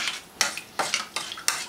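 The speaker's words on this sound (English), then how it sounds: "Mix it up." A spoon stirring clam sauce with curry in a pan, heard as five rhythmic, close scraping sweeps against the pan with a light sizzle underneath, with no one talking.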